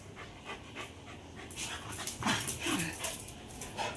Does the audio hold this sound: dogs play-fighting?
yes